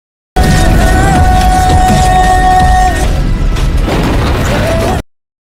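A loud warehouse explosion blasts with a crashing rumble, sustained tones ringing over it, cutting off abruptly.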